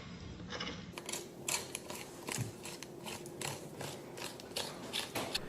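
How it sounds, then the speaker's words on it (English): Metal spoon scraping cooked salmon flesh off the spine toward the tail, giving a close, continuous run of soft scratchy, crunchy strokes with no talk. "what I typically do is spoon the meat off the bone, but be very careful not to scrape off the pin bones."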